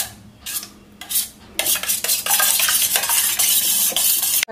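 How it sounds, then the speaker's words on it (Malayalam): A spoon stirs pudding mixture in a bowl, scraping and clinking in brisk, steady strokes that start in short bursts and then run continuously, close and fairly loud with no talking. "ആദ്യം ഒരു സ്പൂൺ കൊണ്ട് മിക്സ് ചെയ്യാം കേട്ടോ"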